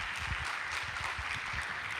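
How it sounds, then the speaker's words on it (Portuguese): A church congregation claps together in a steady, dense wash of applause that holds at an even level throughout, no voices standing out. "Aplauda o Senhor."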